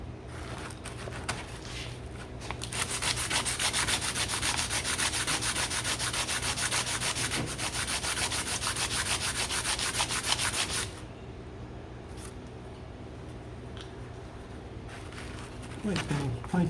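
A wooden harp slider is sanded by hand, with dense, rhythmic rubbing strokes that build loud in the middle and then fade to softer scraping near the end.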